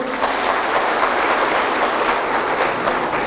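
A large crowd at a municipal political gathering in Kayseri claps steadily, a thick, even wash of applause that holds at full strength for the whole stretch.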